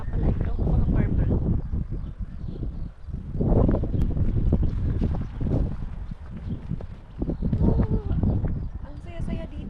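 Strong wind gusting across the microphone in Jerusalem's Kidron Valley, a loud, buffeting roar rising and falling in waves while a person talks over it.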